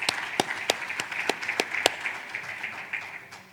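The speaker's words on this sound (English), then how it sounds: "So once again, another round of applause to Madam" Applause from a conference audience at a stakeholder forum, a modest spread of claps with a few sharp, distinct hits standing out over a steady patter, fairly distant and tapering off.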